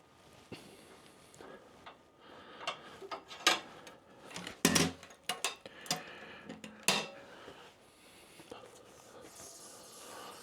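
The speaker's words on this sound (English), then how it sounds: "Okay, so just like that, we change the belt speeds." Belt speed being changed on a wood lathe: scattered metallic clunks, knocks and sharp clicks of parts being shifted, loud and close, spread across the stretch with quiet handling noise between.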